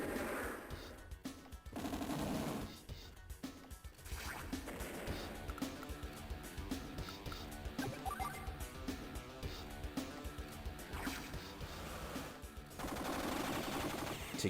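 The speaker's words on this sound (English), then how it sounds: "So we'll drop rockets on you." A rocket attack in the handheld strategy game Advance Wars Dual Strike, heard as rapid rattling bursts of gunfire-like impacts and crashing hits that run on steadily at moderate loudness, with no talk.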